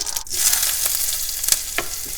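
Oil sizzles and crackles steadily with a few sharp pops as mustard seeds and urad dal hit the hot pan, close and fairly loud.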